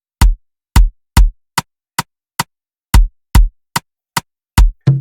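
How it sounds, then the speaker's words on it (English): Sharp, cracking rim shot hits in a syncopated Afrobeat rhythmic pattern made in FL Studio, about a dozen strikes, loud and dry, with a final hit blending into a deeper drum. "And then for the rim shots, we also have this pattern."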